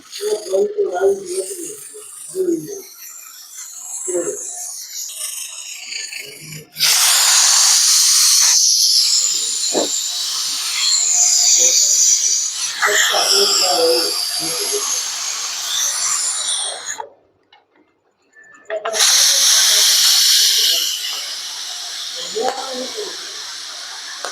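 A pressure cooker with urad dal releases steam in a loud, broad hiss that surges in long bursts, stops briefly, then resumes, with softer clatter and murmuring voices in the quieter opening stretch.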